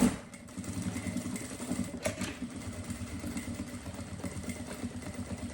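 A sewing machine stitches fabric at stitch length 3.5, giving a fast, steady mechanical whir that runs continuously at moderate, close volume, with a brief knock near the start.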